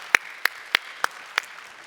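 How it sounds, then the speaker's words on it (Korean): Five slow, separate hand claps ring out in a Korean church's Sunday worship service, evenly spaced and fairly quiet, with no voices over them. "우리 하나님께 감사의 박수 하겠습니다"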